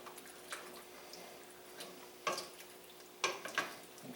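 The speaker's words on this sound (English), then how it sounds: "Make sure you keep stirring." A utensil stirs chicken stroganoff sauce thickened with cornstarch, giving soft, faint scrapes and a few sharper clinks against the pan over a low simmering background, with no voices.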